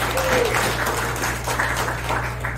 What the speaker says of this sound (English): Please give another round of applause for Helen